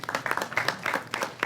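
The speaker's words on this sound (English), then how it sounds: "Give a round of applause" Audience applause at a local officials' gathering comes through as a brief, moderately faint patter of many hands clapping, uneven and short-lived.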